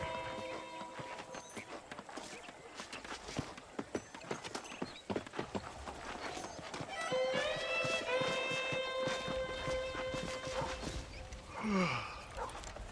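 Horse riding in the Western video game Red Dead Redemption: rapid hoofbeat clip-clop runs steadily under game sounds, joined later by a sustained tonal music or effect layer, moderately loud and close.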